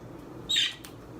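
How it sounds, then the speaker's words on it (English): A pet bird gives a single short, sharp squawk, close and fairly loud, standing out from a quiet indoor background. "And there's our birds."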